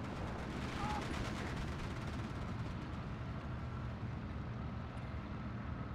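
Mortar and gunfire in the war game Endless War roll as a dense, continuous barrage of overlapping blasts and rapid shots, loud and steady throughout with no pauses.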